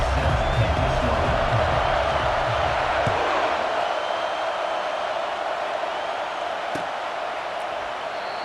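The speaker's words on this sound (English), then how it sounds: "This crowd bringing an ear-splitting welcome to their visitors" A stadium crowd in EA Sports College Football roars in a steady, loud, broad wash of cheering for a Gators game kickoff, with a commentator's voice over it.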